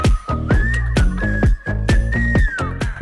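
A bright whistled melody rides over a booming, rhythmic bass beat in a K-pop song, the whistle line sliding up and holding steady notes.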